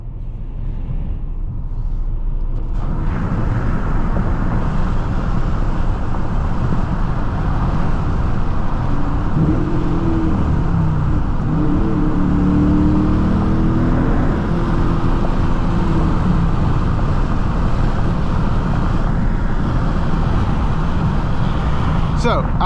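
Dodge Challenger R/T with a six-speed manual driving up and down a road, its engine a steady loud rumble with road noise throughout, rising slightly midway, while someone talks over it.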